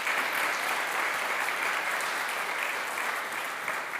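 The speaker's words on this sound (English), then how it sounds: "Can we give her a round of applause?" A church congregation gives a round of applause, even and continuous clapping from a gathered crowd, moderately loud and sustained without a break.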